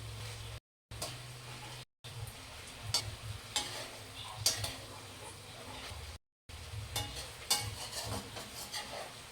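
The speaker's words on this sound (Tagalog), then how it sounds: "Haluin ng haluin para maangaw siya" Chicken adobo gets stirred in hot oil in a pan, giving a steady soft sizzle broken by scraping and clicking taps of the spoon, with brief silent gaps.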